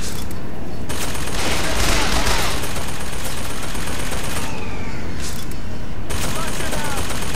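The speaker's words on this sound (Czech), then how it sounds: "To na mě střílí." Rapid bursts of gunfire in the video game Bioshock Infinite ring out loud and near across the whole stretch, dense and overlapping like a sustained firefight, with a voice talking over parts of it.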